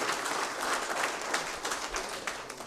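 Steady applause fills a formal installation ceremony as an honoured guest is welcomed, a dense even patter of many hands clapping together at moderate distance without a break.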